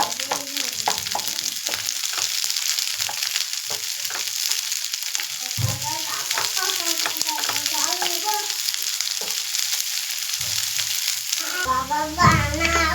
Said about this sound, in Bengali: এই তো গাজর ক্যাপসিকাম পেঁয়াজ ভাজা ভাজা হয়ে গেছে